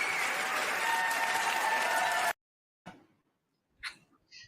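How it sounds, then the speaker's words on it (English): Applause sound effect of a crowd clapping loudly and steadily for about two seconds, then cutting off sharply, followed by brief faint noises after a short silence. "I had to give you a round of applause for that"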